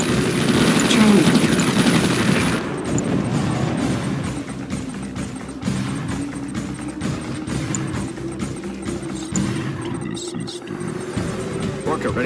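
An Orca aircraft lifts off in the Command & Conquer 3: Kane's Wrath video game, with a loud, steady helicopter-like rotor and engine drone that continues under other game sounds.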